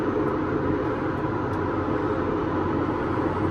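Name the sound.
tractor engine running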